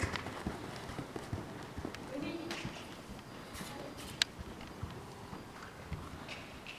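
Hooves clip-clop steadily on arena footing during a riding lesson, a soft continuous rhythmic patter of a moving horse at moderate distance with light background noise.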